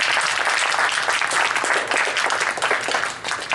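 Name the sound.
audience applause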